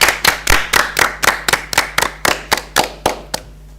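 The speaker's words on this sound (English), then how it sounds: "Let us give Matilda a round of applause for her wonderful artwork." Slow rhythmic clapping at a Model UN opening ceremony, about fourteen distinct claps in an even beat, close and crisp with a hum underneath, fading out at the end.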